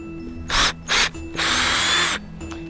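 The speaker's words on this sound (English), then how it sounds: "All right, so we're ready to drill this tree." Power drill boring a tap hole into a maple tree trunk, two short bursts followed by a longer sustained whine of the bit cutting into wood, close and loud.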